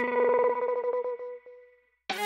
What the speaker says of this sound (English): on the guitars it's actually the LFO EQ8 thing